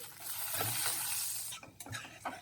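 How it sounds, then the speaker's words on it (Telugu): Mustard seeds splutter in hot oil for a tempering, with cumin and dals going in, making a continuous close sizzle broken by a few stirring scrapes near the end. "ఆవాలు వేసాను. చిటపటలాడేటప్పుడు జీరా, కొంచెం మినపప్పు, కొంచెం పచ్చిశనగపప్పు వేసి"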